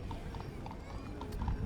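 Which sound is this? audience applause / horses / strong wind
horses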